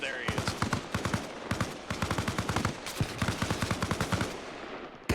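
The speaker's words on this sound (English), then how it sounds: "they're firing over by the Chinook" Automatic-weapon fire in the military game ARMA Reforger, near a Chinook helicopter: repeated rapid bursts of machine-gun shots, fairly distant and moderately loud, with short pauses between volleys.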